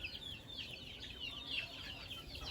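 Gamefowl chickens cluck on a game farm, soft scattered clucks and calls at a distance over a low steady background hum, with no voices.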